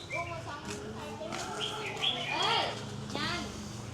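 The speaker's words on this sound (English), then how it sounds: "here's where the birds that I'm hearing singing all the time" Several small birds chirp and trill in quick varied phrases on a street in Da Nang, Vietnam, fairly close, over a soft low background hum.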